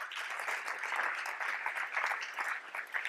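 An audience at the Typo St. Gallen event applauds to welcome speaker Hans-Peter Kaeser, a steady, moderately distant wash of many hands clapping that carries on without a break and with no talk.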